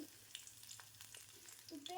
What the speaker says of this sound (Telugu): ఇంకా పోపు దినుసులు కూడా వేసుకొని వేయించుకుంటున్నాను